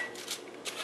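Parchment paper is handled on a baking sheet, giving two short, soft crinkling rustles close by over a quiet background, with no speech.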